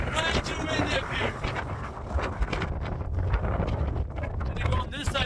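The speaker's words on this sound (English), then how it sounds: "Too windy. Way too windy up here." Strong wind gusting across an exposed mountain top, a loud, steady roaring buffet on the microphone that continues throughout, with someone talking over it.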